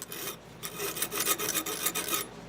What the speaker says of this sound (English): Now you can do this, just kind of a scrub, but doing it in that file motion.